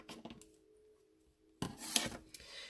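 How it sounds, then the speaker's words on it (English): Paper edges being trimmed on a handmade greeting card decorated with candy cane print, a few quiet rubbing cuts at the start, a pause of near silence, then a brighter close swish of trimming, no talk. "now we will trim off all these edges."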